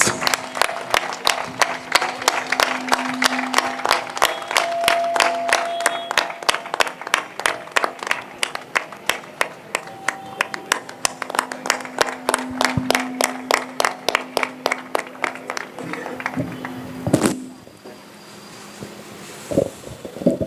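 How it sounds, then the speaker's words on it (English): A crowd applauds at a road safety awareness run event, a long stretch of steady, fairly loud clapping with many hands that thins out and fades near the end, with no talk over it. "Give them a big round of applause."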